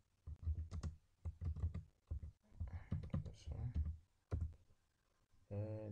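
Keys on a computer keyboard are tapped in quick bursts while a project name is entered into surveying and design software, close and clicky, separated by short pauses, with a brief voice at the end.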